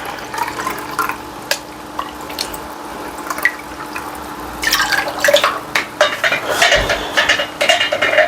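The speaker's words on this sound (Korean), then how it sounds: "그러면 물 주러 가볼까요?" Water poured onto potted geranium plants as homemade nutrient feed is given, a soft dripping and trickling that grows louder and splashier in the second half, close by with no talking.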